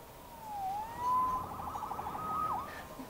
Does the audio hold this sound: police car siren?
yes